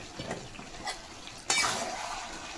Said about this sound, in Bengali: এবারে টমেটো থেকে টমেটোটা কষবো